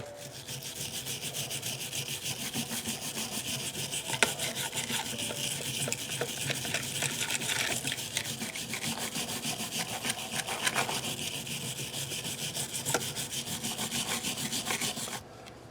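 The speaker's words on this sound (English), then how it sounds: "I got myself a little scrub brush." A small scrub brush scours the body of a Yamaha guitar in steady, rapid, close strokes, a continuous bristly rubbing that runs without a break for about fifteen seconds.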